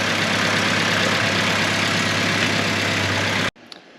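A 1971 Datsun 521 pickup engine idles at about 900 RPM, a steady close mechanical hum that cuts off abruptly near the end, followed by a faint click.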